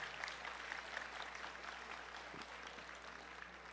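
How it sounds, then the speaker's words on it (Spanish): Applause at a national award ceremony with a president handing out prizes to contest winners, steady crowd clapping heard at a distance and fairly faint, sustained evenly throughout. "Fuertes aplausos para nuestra ganadora."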